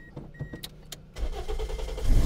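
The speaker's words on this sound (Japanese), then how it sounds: "エンジンかけてみます。" A used Toyota Probox car with a modified engine cranks and starts after a few electronic chimes, then settles into a rough, rising idle that grows louder at the end.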